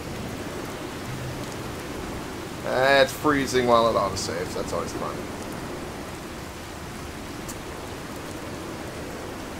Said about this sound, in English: it is raining like